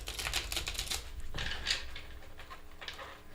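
Cards shuffled for a reading, rapid dry riffling and tapping bursts close to the microphone, one quick flurry followed by a second, softer run.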